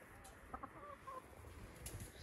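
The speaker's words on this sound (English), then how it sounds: "The chickens." Backyard chickens cluck softly in short, scattered bursts, fairly quiet and close, with no talking.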